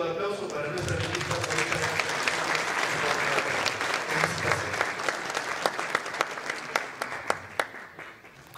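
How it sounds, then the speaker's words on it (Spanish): A crowd applauds steadily, the clapping dense at first and thinning into scattered individual claps toward the end. "Un fuerte voto de aplauso para nuestra ministra."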